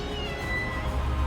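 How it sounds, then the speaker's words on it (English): A cat meows at a host's home near Cape Town, South Africa, a short close call heard alone. "Meow."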